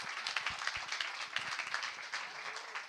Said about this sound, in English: Give her a round of applause, everyone, to Kirsty.